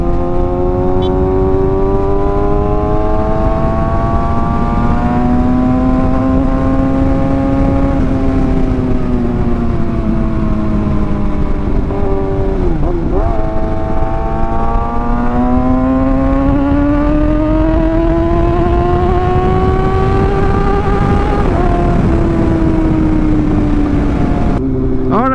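Motorcycle fitted with a full titanium exhaust pipe, engine revving loudly and steadily with rising and falling pitch sweeps, a sharp dip midway, running continuously and close throughout.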